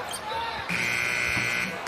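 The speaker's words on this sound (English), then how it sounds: "And at the buzzer, Yabusele puts one in." A sustained shot clock buzzer sounds for about a second at an NBA basketball game, loud over continuous crowd noise and commentary.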